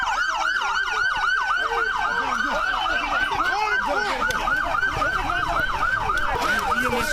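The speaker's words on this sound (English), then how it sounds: "EMS, turn the sirens off" Several emergency vehicle sirens wail continuously and loudly together, overlapping yelp and wail patterns close by during a police shooting scene, with faint traffic underneath and no talk.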